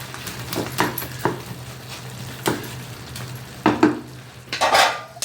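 Vangi bath of mixed vegetables stirred in a pot over a low flame, with spoon scrapes and clinks against the metal at irregular intervals over a steady low hum and faint sizzle.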